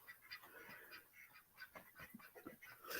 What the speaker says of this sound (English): I love my ducks.